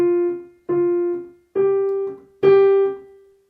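Piano notes struck with a quick accent, four separate emphasized notes, each sounding briefly and decaying before the next, close and alone.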